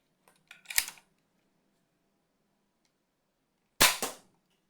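A Nerf Alpha Strike Wolf LR-1 toy sniper blaster firing a dart: a sharp spring-loaded snap near one second after some faint handling clicks, then a second loud crisp shot toward the end, with quiet between.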